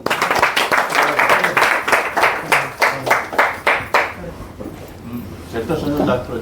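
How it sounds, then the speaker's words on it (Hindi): An audience at a local political welcome event claps loudly in a burst of sharp, rhythmic hand strikes that taper off, with a voice speaking through the latter part. "बहुत जोरदार ताली"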